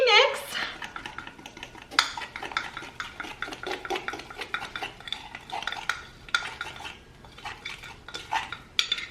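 A fork clinks and scrapes against a bowl, stirring blueberry muffin batter with a rapid, uneven rhythm of close, sharp taps and sloshes, with no voices.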